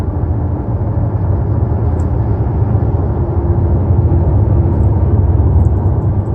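A 2019 Buick Envision's 2.0L turbo engine pulls at partial throttle, heard from inside the cabin as a steady, even low drone and road rumble with no talking.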